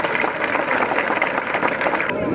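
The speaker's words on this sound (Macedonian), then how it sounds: "За сите нив еден громогласен аплауз." Applause from a crowd at an outdoor political rally in Nerezi, a steady wash of clapping and cheering voices that cuts off abruptly near the end.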